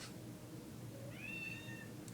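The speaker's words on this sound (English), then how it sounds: "I think that was my cat making that loud noise." A house cat lets out a single drawn-out meow mid-clip, fairly faint and set against a steady room hum, with no talking.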